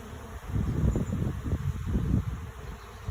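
A honey bee swarm gives off a dense, steady buzzing hum that stays loud and close throughout, with a soft rustling texture and no voices.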